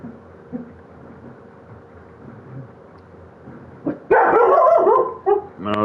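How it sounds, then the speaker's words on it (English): Lily the dog barks nearby in a home during a podcast recording, a burst of loud, sharp barks arriving near the end after quiet background murmur. "No, there's my dog."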